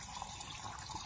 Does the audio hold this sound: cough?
no